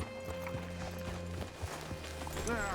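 Steady clip-clop of horse hooves at a walking pace in Red Dead Redemption 2, moderately close, with a low hum underneath and a brief voice toward the end.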